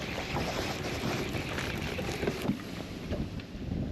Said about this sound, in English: Oh my God, the wind is blowing me.